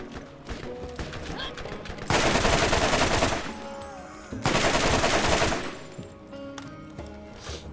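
Gunfire in Borderlands: two sustained, loud bursts of rapid shooting, each lasting over a second, rising above a busy game soundscape with quieter background noise between them.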